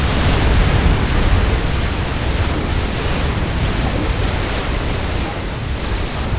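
Battle explosions in the real-time strategy game Supreme Commander 2, where a megalith unit attacks a commander and tanks, form a loud, continuous wash of booming, rumbling blasts with no break.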